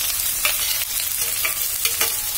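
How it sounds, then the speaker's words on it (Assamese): Two finely chopped onions fry gently in a pan over low heat, a steady soft sizzle broken by a few scraping stirs at intervals, close and with no talk. "একদম কম জুইত আমি কোমলকে ভাজি ল'ব লাগিব"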